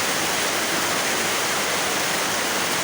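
Heavy rain pours in a dense, constant roar around a house with floodwater all about, steady and loud from start to finish with no voices.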